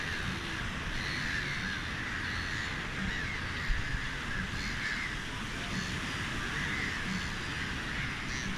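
A crowd of seagulls gathers at a rock pool in Gambia. Their overlapping calls form a steady, moderately distant chatter over open outdoor ambience.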